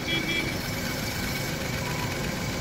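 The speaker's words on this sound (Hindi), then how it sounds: "गाड़ी अभी स्टार्ट है। आप देख सकते हो इंजन कितना हिल रहा है" A Maruti Wagon R engine idles with its air cleaner removed, giving a steady, fairly loud rumble with a shaky vibration running through it.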